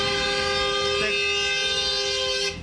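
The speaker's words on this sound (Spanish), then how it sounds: "la pausa necesaria para escuchar los claxons de los buses" Bus horns blare in a city street during a workers' protest, a loud sustained honking tone that holds for over two seconds before cutting off.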